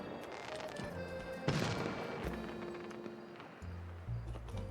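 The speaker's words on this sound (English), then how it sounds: "Fireworks." Fireworks burst in the video game Infinity Nikki, a faint, brief crackling boom followed by softer pops over quiet game music.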